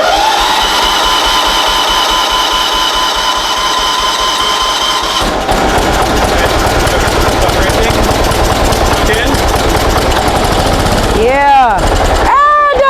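A small garden tractor engine, left sitting for five years, sputters and catches with the choke on, then runs with a loud, steady rapid chugging that carries on over the rest of the clip, close by.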